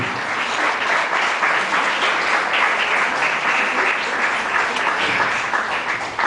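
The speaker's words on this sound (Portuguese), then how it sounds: "Podemos aceitar, aplaudindo o Senhor Jesus." A church congregation applauds in an evangelical service, a loud, dense, continuous wash of clapping that holds steady throughout.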